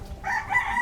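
A single chicken clucks and crows nearby in a short, continuous burst with some low background rumble and no talking.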